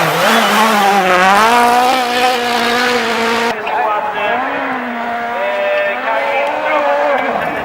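Rally cars speed on snow at Rally Sweden 2017, their engines howling with rising and falling pitch as they pass. A brief cut leads into a second, slightly quieter engine sweep.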